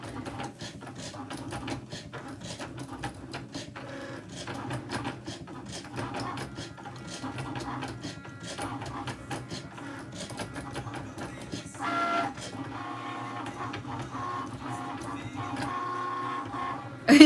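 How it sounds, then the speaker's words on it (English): A Cricut Maker digital die cutting machine whirs and clicks steadily, with rapid mechanical ticking and a motor hum that shifts slightly near the end; no voices. "This is a Cricut maker. It's a digital die cutting machine."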